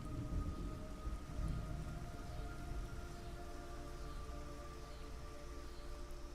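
Rain falls steadily in the video game Metal Gear Solid Triangle, a soft continuous patter with low rumbling underneath and faint tonal music, quiet and without speech.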